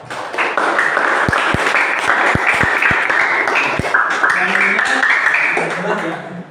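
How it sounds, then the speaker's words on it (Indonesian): A classroom group claps together in a fiqh lesson, steady dense applause lasting several seconds with a few sharper individual claps standing out, fading slightly at the end. "Ya, bagus, tepuk tangan."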